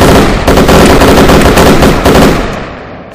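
Loud, sustained automatic gunfire in The Last Stand Dead Zone video game, a dense rapid burst lasting around two and a half seconds before fading out, with no voices.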